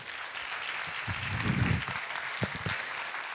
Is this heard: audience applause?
yes